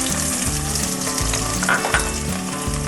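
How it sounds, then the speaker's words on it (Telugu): Mixed vegetables for veg pulao (carrot, beans, potato, peas, green chilli) fry and get stirred in a hot pan, giving a loud, steady, close sizzle throughout with occasional scraping. "నేను అన్ని మన దగ్గర ఉన్న వెజిటబుల్స్ మొత్తం వేస్తున్నాను."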